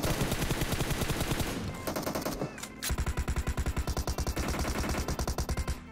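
Rapid automatic gunfire in PUBG Mobile, loud sustained bursts of rhythmic shots with a brief pause midway before another steady volley.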